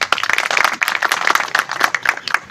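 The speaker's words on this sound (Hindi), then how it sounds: "जोरदार तालियों से स्वागत करें।" An audience at a police station open day claps steadily and loudly in welcome of a visiting station house officer, a dense patter of many hands with no talk over it.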